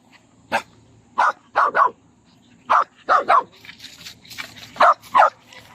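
A dog outdoors on a hot day barks repeatedly in short bursts, some single and some in quick pairs, fairly close and loud, with no talk over it.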